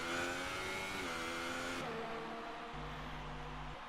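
A race car engine in a racing video game roars through Parabolica on the Italian circuit at Monza, loud and steady with tonal harmonics, the pitch shifting as it accelerates and changes gear, with no voices over it.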